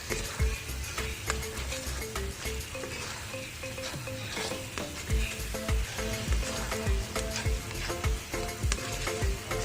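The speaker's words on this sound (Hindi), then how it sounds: "दो से 3 मिनट तक हमें नमक मिर्च मसालों को अच्छे से मिक्स करना है।" Ground chicken keema being stirred and fried with salt, chili and spices in a pan, a steady sizzle with repeated scraping and clinking of the spoon against the pan throughout.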